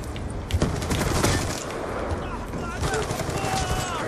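Rapid automatic fire from the Peacekeeper gun in Call of Duty: Black Ops 2 crackles in bursts amid game effects, with a voice talking over much of the shooting.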